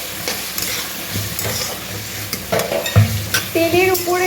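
Whole spices, cardamom, cinnamon, cloves and bay leaf, frying with reddening onions in oil for chicken and potato kosha, sizzling steadily while a spoon stirs and scrapes the pan in uneven strokes, close and moderately loud with no talking.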